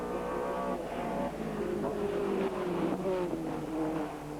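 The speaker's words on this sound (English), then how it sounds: "these big 450 brake horsepower AJP8 powered TVR Tuscans, very, very quick indeed in a straight line" 450 bhp AJP8-powered TVR Tuscan race cars roar past at a circuit, a loud sustained engine drone with rising and falling pitch as cars pass by in quick succession.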